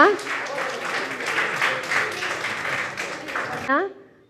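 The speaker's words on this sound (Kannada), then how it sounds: "ಗಟ್ಟಿಯಾಗಿ ಕೈ ಚಪ್ಪಾಳೆ ತಟ್ಟಿ ಅವರನ್ನು ಅಭಿನಂದಿಸೋಣ" A crowd at an award ceremony applauds steadily for several seconds, dense clapping that fades as a voice starts speaking at the end.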